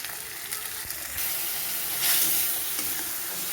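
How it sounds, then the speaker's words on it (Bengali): Ground spices sizzle in a pan with tomato, ginger, garlic and onion while being stirred, a close continuous frying hiss with scraping strokes that swells louder midway, with no talking. "এইভাবে আমি কিছুক্ষণ নেড়ে চেড়ে কষিয়ে নেব মশলাটা, যাতে কাঁচা গন্ধ কোনো মশলা থেকে না বের হয়"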